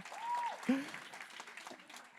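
Audience applause at an open-mic comedy night in Lambersart, a faint, even spread of clapping from a small crowd, with a brief tonal sound near the start.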